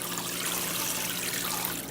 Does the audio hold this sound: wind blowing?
no